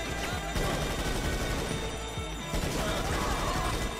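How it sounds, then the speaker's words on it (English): A grenade blast mixed with bursts of gunfire in the GTA Online video game, a busy stretch of sharp cracks and rattling shots with a crashing thump, fairly even in loudness and without speech. "what the hell is that grenade gonna go off or what?"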